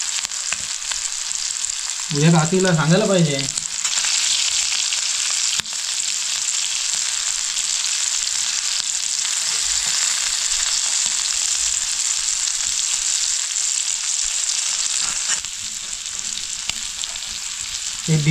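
Prawns and garfish sizzle steadily on a griddle over a wood-fired stove, a continuous close frying hiss, with a brief spoken remark near the start.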